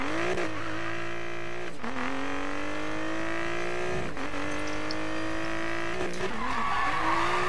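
Game car drifting in Need for Speed Payback: sustained tire squeal and skidding over a rising engine drone, with repeated slides and shifts, loud and continuous throughout.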